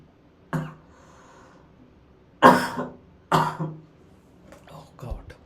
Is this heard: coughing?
yes